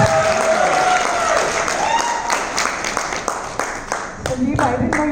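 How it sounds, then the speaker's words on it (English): At an annual day event, an audience claps as a guest is called to the stage, a fairly loud round of applause thinning into scattered claps, with a voice speaking over it. "Applause for him."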